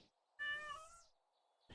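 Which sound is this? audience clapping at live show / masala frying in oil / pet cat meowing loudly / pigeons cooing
pet cat meowing loudly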